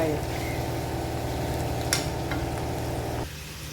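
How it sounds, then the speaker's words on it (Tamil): Boiled jackfruit seeds frying in a pan give off a soft, continuous sizzle over a steady low tonal hum that cuts out shortly before the end, with a faint scrape partway through. "ஏற்கனவே வேக வச்ச பலா கொட்டனால சீக்கிரம் ஃப்ரை"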